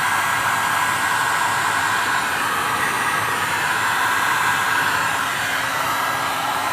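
An Einhell TH-HA 2000/1 heat gun blows steadily and loudly on its second, higher setting, a constant rushing hiss with no pauses or talk.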